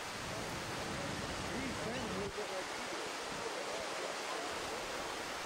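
Roaring water of Brooks Falls in Alaska, a broad steady rush of falling water filling the scene at close range, with a voice speaking faintly beneath it at first.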